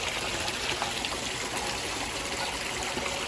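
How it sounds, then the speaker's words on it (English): Water from an aquaponics pump pours and overflows out of the grow beds, a steady broadband trickling and gushing that runs evenly throughout, close and continuous with no talk. "The pump is overflowing and working, adding oxygen."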